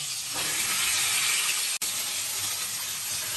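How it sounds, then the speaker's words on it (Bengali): Pointed gourd (potol) frying in oil, a loud, continuous close-up sizzle with a brief dropout partway through. "দুকলা তেলে পটল ভেজে নিচ্ছি।"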